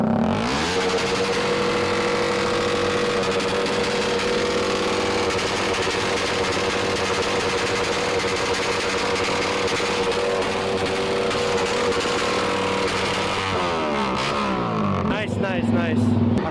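A motorcycle engine drones and revs through an aftermarket exhaust pipe, a steady loud hum held for many seconds before the pitch sweeps and surges near the end, with voices talking over it.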